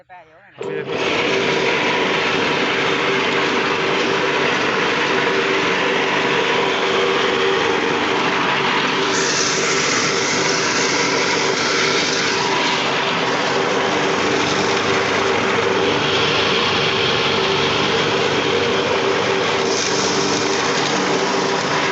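A motorised grass-cutting machine switches on and runs with a loud, high-pitched whine right beside the listener, holding a steady drone for about twenty seconds with slight shifts in pitch.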